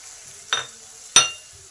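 Green chillies and tomatoes frying with ground spices for muri ghonto, stirred in the pan: two distinct scraping strokes over a soft background sizzle, close and without talk.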